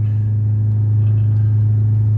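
A car's engine holds in second gear while braking on the way down a long hill, giving a steady, loud low drone with an even rumble and no change in pitch, heard from inside with no talking.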